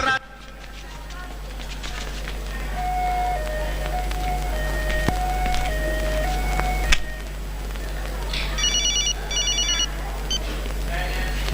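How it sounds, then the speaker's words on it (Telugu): A mobile phone ringtone plays a stepped electronic melody at a busy Vizag fishing harbour, loud and continuous over a heavy hum of background noise, followed by brief bursts of higher chiming beeps. "బాబాజీ ఫోన్."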